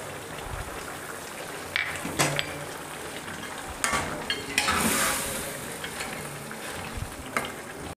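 Ginger-garlic paste frying with beef in a wok, a steady sizzle broken by several sharp clinks and scrapes of stirring against the pan.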